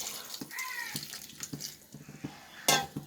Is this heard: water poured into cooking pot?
yes